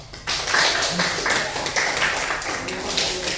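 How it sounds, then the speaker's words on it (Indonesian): Students in a classroom clap together for several seconds, a loud, dense burst of applause that rises quickly and stays near, with faint voices mixed in. "tepuk tangan untuk kita semua."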